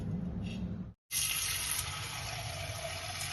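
Clean water fills a new clay pot, a close steady gush from a tap that stops briefly and then resumes with a brighter splashing rush.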